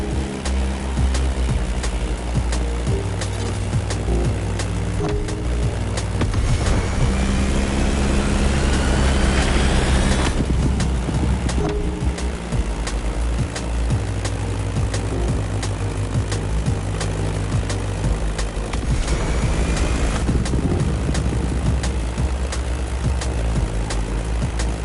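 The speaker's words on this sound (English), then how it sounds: "Beechcraft Stagger Wing is truly a beautiful piece, isn't it? And a great choice for that flight." Engine drone of a Beechcraft Staggerwing biplane in a racing video game, a steady loud propeller hum with shifting pitch and occasional rising whines.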